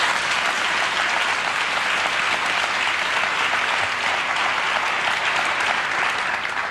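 Audience applause, a dense, loud, unbroken wash of many hands clapping at once, sustained and even from start to finish.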